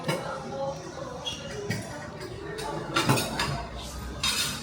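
Dishes and cutlery clink and clatter intermittently at moderate distance during washing up, with sharp metallic taps over a busy background of kitchen bustle.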